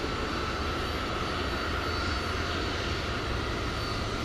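A Boeing 757 at DFW Airport at night gives off a steady, moderately distant engine roar with broad hiss, continuous and unbroken, with no voices.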